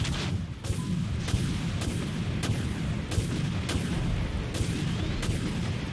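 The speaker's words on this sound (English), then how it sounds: "Torpedo lock. Torpedo launched." Naval combat in the PC game Dreadnought, with a torpedo launch followed by heavy booming detonations that repeat roughly every second over a constant loud rumble.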